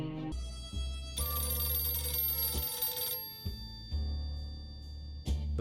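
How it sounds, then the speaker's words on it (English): A telephone rings inside a fallout shelter in the video game 60 Seconds! Reatomized, with repeated bursts of bright electronic ringing, loud and close, separated by short pauses over a low hum. "The phone is ringing."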